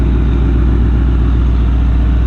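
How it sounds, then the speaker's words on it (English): A car engine fitted with aftermarket long-tube exhaust headers, opened up and rumbling loud and close, with a steady, deep throb that holds without a break. "this car sounds amazing. It sounds way louder than mine"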